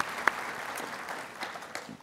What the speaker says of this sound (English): So give yourself a round of applause